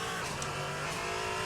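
Tyres squealing on a car in a sim racing game, a steady continuous screech over the engine drone, loud and unbroken for the whole moment.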